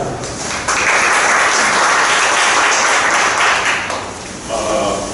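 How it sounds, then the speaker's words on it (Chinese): A conference audience bursts into loud, sustained applause welcoming a speaker, many hands clapping together for several seconds before easing slightly toward the end. "掌声欢迎"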